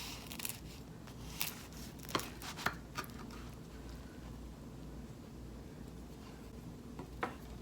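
A knife slices through a veggie and rice burrito crisped on the outside, giving a few sharp crunchy cuts and scattered crackles over a steady low kitchen hum, with no talking.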